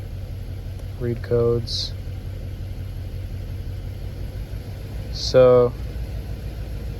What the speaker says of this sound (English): And then we'll start the car again. Yeah, it looks like we still have our misfire.